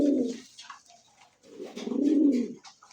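Peshawari pigeons coo nearby in two low, throaty rolling phrases separated by a short pause, fairly clear with little background noise.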